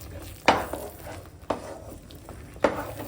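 Halwa mixture stirred in a pan, three sharp scraping knocks of the spoon against the metal about a second apart, with a soft sizzle underneath.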